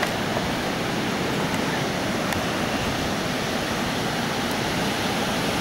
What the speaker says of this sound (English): There's the beach, tide's out.